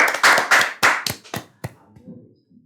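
Six or seven sharp hand claps in a classroom coaching session, quick at first and then spacing out and fading into quiet.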